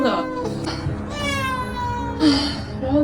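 A stray kitten, found lying still in the middle of a road during a rescue, gives several close, drawn-out meows, some rising and plaintive, with voices murmuring faintly underneath.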